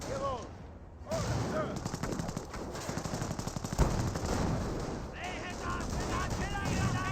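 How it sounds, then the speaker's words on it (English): Company of Heroes battle between Wehrmacht and British forces: dense machine-gun bursts and rifle fire rattle continuously, with booming artillery impacts and explosions mixed in, while a commentator's voice runs over the fighting. "now do have some offensive artillery being brought in"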